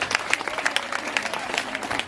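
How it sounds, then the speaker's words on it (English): Secondary school students at a drug-awareness campaign clap in a lively, dense burst, with crowd voices mixed into the applause. "Clap for him."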